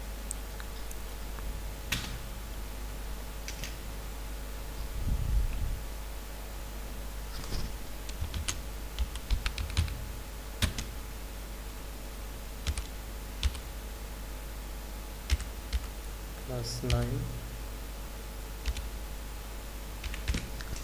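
Keys click on a computer keyboard as text is typed into a document, in scattered faint taps and short bursts over a low steady hum, with no voices.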